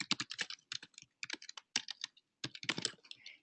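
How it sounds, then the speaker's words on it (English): Rapid bursts of keystrokes on a computer keyboard while an email note is typed, close and clear, with short pauses between flurries of clicks and no talking. "and then you type the note"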